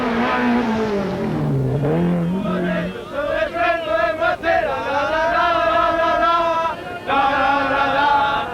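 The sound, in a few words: rally cars racing, 1986 Critérium des Cévennes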